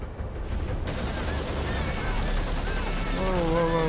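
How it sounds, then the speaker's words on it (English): Gunfire in Metal Gear Solid V: The Phantom Pain as locks are shot off, a dense burst of loud shots that begins abruptly after a quiet moment and continues steadily, with a tonal game sound rising near the end. "Did you have to shoot the locks off like that?"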